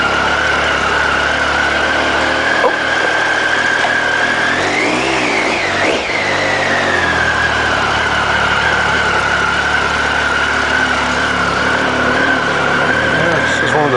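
A motorcycle engine runs steadily in a garage, a loud continuous drone with one brief rev in the middle, and a voice talks over it.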